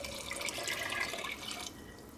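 Water is poured into a pressure cooker of mutton biryani, a steady splashing stream that runs for under two seconds and then drops to a softer wash of liquid.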